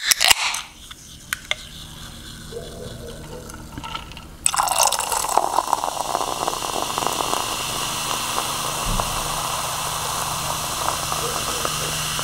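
Liquid pours steadily over ice, a hissing, fizzy stream with small crackles and clinks that continues for several seconds after a quieter start.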